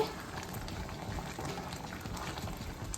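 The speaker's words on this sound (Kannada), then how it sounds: "ನೋಡಿ ಈ ಥರ ಕುದೀತಾ ಐತಿ." Rajasthani dal kadubu dumplings boiling in a pot, a soft, steady bubbling simmer heard close and alone at low volume.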